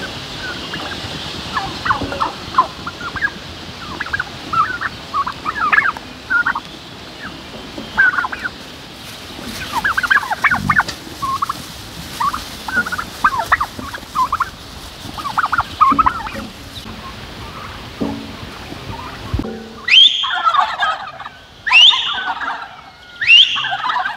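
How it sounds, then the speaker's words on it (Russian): Turkeys on a forest farmstead gobble repeatedly in choppy, overlapping bursts after a whistle, close and loud against a busy outdoor background, with a sharper cluster of calls near the end. "Я свистнул индюков, индюки дают голос, им не нравится громкий звук."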